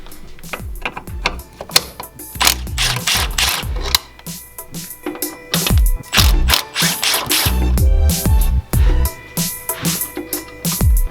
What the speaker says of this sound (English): the instructions state to remove the two bolts, one right here and one right there